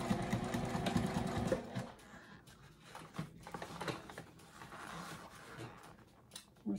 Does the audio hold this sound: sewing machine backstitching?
yes